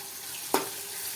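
Tomato masala with salt and turmeric is stirred in a cooking pan for a potato curry, giving one brief, soft scrape and sizzle midway through an otherwise quiet stretch.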